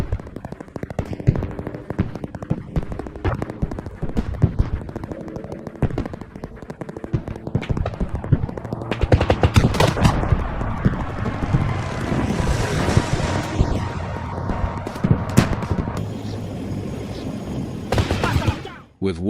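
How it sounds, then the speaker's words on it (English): War footage of a tank convoy attack near Kursk, with dense bursts of gunfire and booming explosions rolling continuously under wind buffeting the microphone, loud and chaotic throughout. "Explosions continue to ring out, each blast making their advance impossible."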